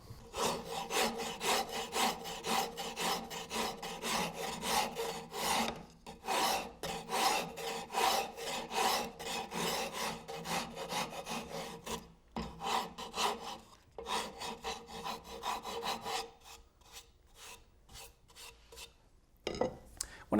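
A rasp filing a wooden garden finial, working down its length: rhythmic back-and-forth rough scraping strokes, close and fairly quiet, with a couple of brief pauses and no talking.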